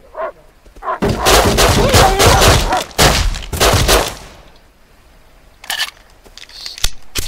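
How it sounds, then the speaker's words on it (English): Gunfire in the survival game Rust as a player shoots at a bear: a dense burst of loud, close shots, then a pause and a few more scattered reports. "Now we're gonna have to shoot the bear."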